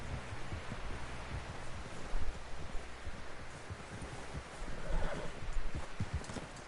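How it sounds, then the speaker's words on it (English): A horse in Red Dead Redemption 2 whinnies amid clopping hooves and rustling, with a louder neigh toward the end, all under a busy, muffled background. "Someone help John down off this horse"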